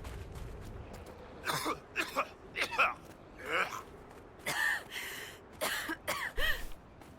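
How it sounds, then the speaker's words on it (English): Characters in the Dragon Age Inquisition video game cough repeatedly from vapor, a series of close, hoarse coughs and throat-clearing bursts in irregular clusters, with no talk over them. "Because everyone's just going to cough at me."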